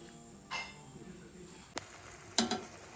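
Maggi noodles are stirred with sauce in a pan, with a few scattered scrapes and clinks of a spoon over a faint background sizzle, quiet and close.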